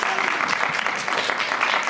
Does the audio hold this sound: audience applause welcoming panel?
yes